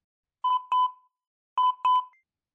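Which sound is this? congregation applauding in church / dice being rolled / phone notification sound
phone notification sound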